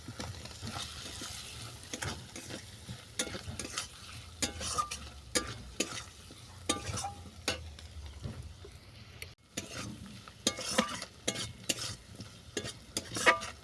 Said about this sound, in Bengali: দেখো মশলাটা ভালো করে কষানো হয়ে গেছে এর সঙ্গে দিয়ে দিচ্ছি ভেজে রাখা চালটা